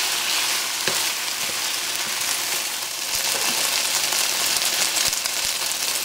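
Beef sears in a hot pan, giving a steady close sizzle with scattered small pops and crackles and no talking.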